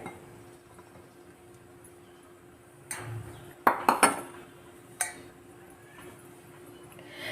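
A metal cooking vessel handled while a quarter kilo of wheat flour goes in for fenugreek-leaf chapati dough, with a few distinct clinks and knocks close by in a quiet kitchen, with someone talking softly.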